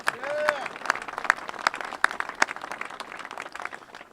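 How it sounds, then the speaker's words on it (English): An audience applauds at a job training program event, a scattered, moderately close burst of claps that thins out over a few seconds, with a voice speaking over the start. "let me give them a round of applause."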